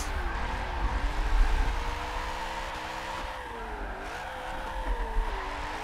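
Racing car in Forza 7 driven with a Thrustmaster TMX Pro wheel: engine drone rising and falling with gear changes and tire squeal, moderately loud and continuous, without speech.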